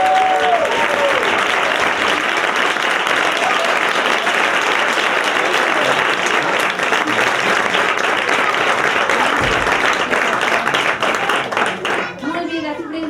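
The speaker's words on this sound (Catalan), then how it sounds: "un aplaudiment una altra vegada molt gran" Families in an audience applaud after a second-grade school performance of The Jungle Book, a loud, sustained burst of dense clapping lasting throughout, with a few voices underneath and a speaker starting near the end.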